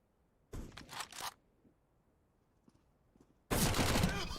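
Automatic gunfire from a Counter-Strike match on the Dust 2 map in a competitive esports playoff game: one short cluster of rapid shots, a quiet gap, then a sustained loud burst of fire.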